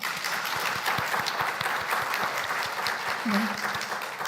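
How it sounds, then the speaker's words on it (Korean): Church congregation applauding, a sustained, even wash of many hands clapping in a large room, with a short vocal sound near the end. "하나님께 영광의 박수 올려드리겠습니다"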